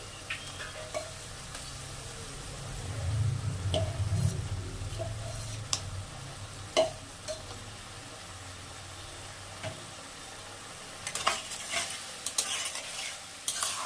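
Broccoli and pre-fried potatoes sautéed over a medium-high flame, giving a soft sizzle with occasional stirring clinks and scrapes, fairly quiet and close, with no talking.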